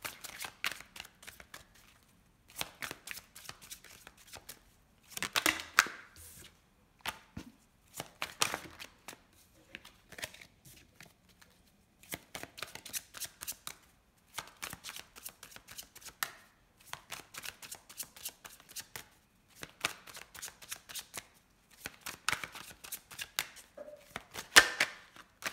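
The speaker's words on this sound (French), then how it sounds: "Je vais aller faire une petite coupe avec l'oracle" Oracle cards being shuffled and cut by hand in repeated short bursts of riffling and flicking, close and crisp, with brief pauses between bursts and no talking.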